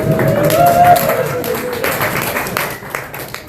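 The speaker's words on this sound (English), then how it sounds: "And another round of applause, please." Audience at a solar policy talk in Colorado giving a loud, dense round of applause that tapers off slightly toward the end, with no one speaking.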